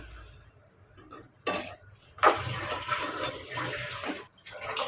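Tamarind rice is mixed in a metal pot, with a spoon clanking and scraping in short bursts separated by brief pauses, close and fairly loud.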